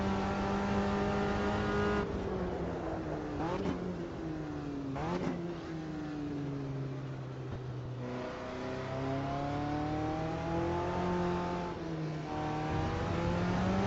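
Race car engines in the Automobilista 2 racing sim, a steady high-revving drone rising and dropping through gear shifts with short cuts between changes, another car's engine layered close by, no talk.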